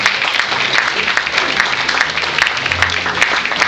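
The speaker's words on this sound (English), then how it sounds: "Please give them a round of applause." Audience applause at a brass band concert, a steady wash of clapping from a crowd filling the whole stretch, loud and close.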